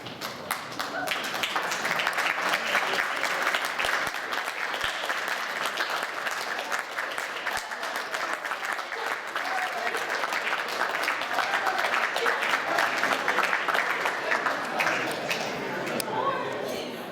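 Sustained audience applause for JROTC cadets at a commander's call, steady dense clapping lasting the whole stretch with some chatter mixed in.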